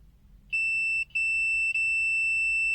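A FUYI 8233D multimeter on continuity test gives a shrill high beep, sounding as a clear tone that breaks off twice in quick gaps and continues, loud and close over quiet background.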